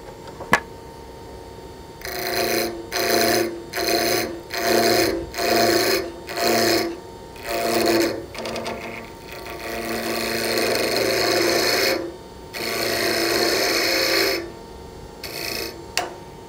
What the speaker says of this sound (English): The cut I'm doing will be to start from the outside and sweep downhill.